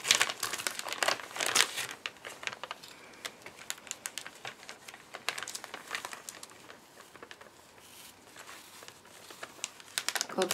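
Thin gold foil sheet crinkles and rustles up close as it is handled, a continuous busy crackle with sharper bursts at the start and end, fairly quiet overall.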